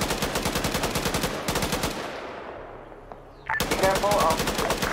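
Automatic rifle fire in Arma 3 during a US soldier patrol in Zargabad, loud rapid bursts with a short gap and echoing tail, then another sustained burst.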